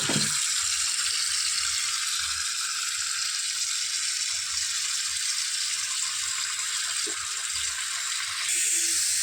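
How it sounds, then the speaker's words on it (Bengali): Mutton being washed under a running tap: a steady, loud broadband rush of water pours continuously close by, with faint handling noises underneath. "মাটনটা এবার ধুয়ে নিই।"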